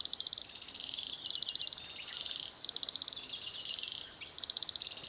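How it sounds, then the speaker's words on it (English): Frogs call back and forth across a creek setting near Logue Brook, repeated pulsing trills alternating between a couple of animals, steady and fairly close over a constant high insect drone. "you can hear frogs there"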